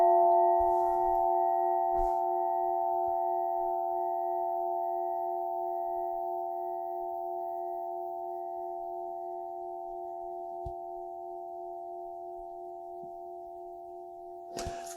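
Several singing bowls ring together in a sustained, blended chord, their steady tones and overtones slowly fading over about fifteen seconds, with a few soft touches and knocks at the start and end.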